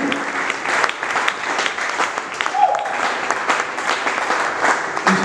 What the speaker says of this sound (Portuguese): Você pode dar mais uma linda salva de palmas para esse Espírito de Deus.